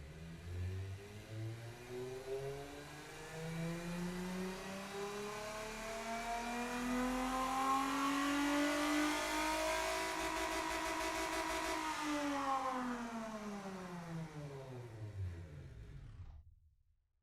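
A simulated V6 engine in the Automation car-design game revs smoothly from low to high and back down, a clean rising and falling whine that winds off to silence at the end.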